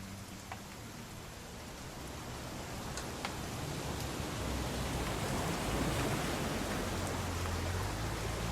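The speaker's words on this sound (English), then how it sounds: "It's gonna rain the whole weekend, isn't it?" Steady rain falls in What Remains of Edith Finch, a soft, even wash of drops that slowly grows a little heavier, with a low rumble underneath, faint and distant.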